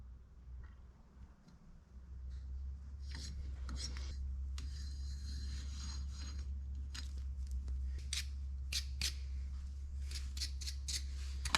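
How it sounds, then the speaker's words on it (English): Bolt holes in a front wheel hub on an Oliver 66 tractor being chased with a tap, heard as repeated short scraping, rasping strokes of metal on metal, close by and fairly quiet over a steady low hum. "now I'm chasing the holes"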